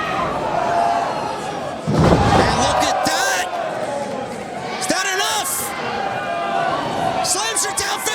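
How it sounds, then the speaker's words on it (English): A wrestler slams an opponent face first onto the mat at a live wrestling event in a brewery, one heavy thud rising from crowd noise as excited commentary runs over it. "Slams her down face first."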